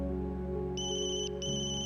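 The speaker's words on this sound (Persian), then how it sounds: "تلفن موبایلم زنگ خورد." A mobile phone ringtone plays in two repeated bursts of bright electronic tones over a steady low background hum, fairly clear and close, with no talking.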